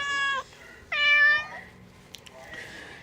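A cat meows twice in close succession, clear and nearby, followed by quieter rustling and a faint short sound.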